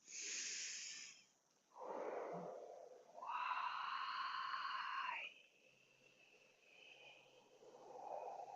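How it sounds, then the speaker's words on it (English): Slow, long, drawn-out exhales during a breathing exercise, soft and close, with breathy, airy tones that swell and fade across several breaths in a quiet room. "even as we do these long extended exhales."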